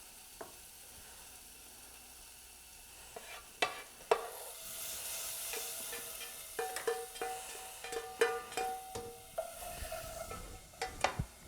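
Ground beef sizzles steadily as it fries in a pot of seasoned soup base, with intermittent scraping and clinking of a stirring utensil against the pot.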